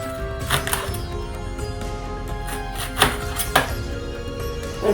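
Food being cut with a knife: a few distinct cuts, around three sharp strokes spaced out over a steady tonal background hum, with no talking.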